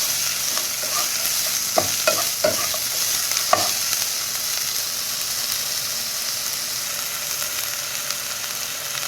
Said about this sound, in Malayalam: തക്കാളി ഒന്ന് കുറച്ച് വെന്തുടയുന്ന വരെ നമുക്കിതൊന്ന് വഴറ്റിയെടുക്കാം.